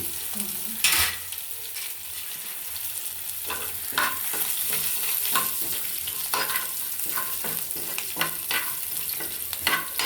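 Green chillies sizzling in a pan for sabudana upma with moong dal, a steady crackling fry with scraping stirring strokes repeating throughout, no talk.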